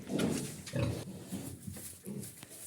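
A pig grunts and snuffles repeatedly at close range in a pigsty, in low rhythmic bursts with short pauses, over a quiet barn background.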